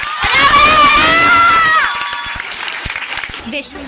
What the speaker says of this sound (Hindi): आप लोगों से तालियां बजाना चाहूँगी